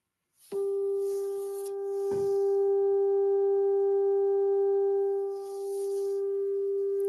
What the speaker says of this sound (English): the do of the do re mi is 396 hertz